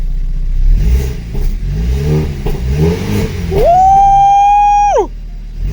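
A BMW engine idles with a lumpy, pulsing rumble, then climbs into one sustained high rev for over a second before the throttle snaps shut and it drops back, close and loud.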